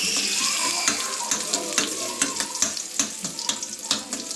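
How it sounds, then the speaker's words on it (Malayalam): Mustard seeds, curry leaves and onion frying in hot oil for a homestyle chicken curry, a steady sizzle broken by sharp crackling pops and spits at irregular intervals. "കടുക് കൂട്ടാനുള്ള നമുക്ക് കരിയാപ്പിലെ ഉള്ളിയും കൂടെ ഇട്ട് ഒന്ന് മൂപ്പിച്ചെടുക്കാം"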